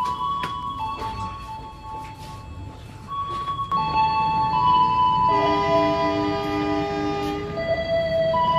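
Majapahit economy-class passenger train pulling away from the station, a steady low rumble and rising mechanical hum with several sustained whistle-like tones layered on top, loud and continuous.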